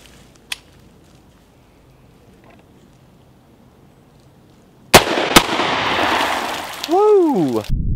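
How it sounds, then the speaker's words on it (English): An AR-15 pistol fired outdoors: one faint distant crack early, then two loud, sharp close shots in quick succession with a lingering blast, followed by a wavering whoop-like tone and noise. "Let's take a couple shots with this."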